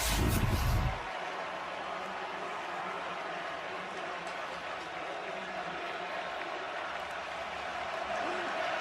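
A college football stadium crowd at Michigan versus Washington roars loudly at first, then settles into a steady wash of crowd noise beneath a commentator's voice.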